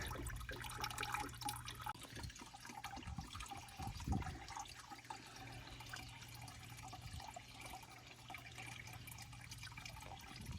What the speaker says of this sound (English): you guys saw that pouring out the coolant out of that reservoir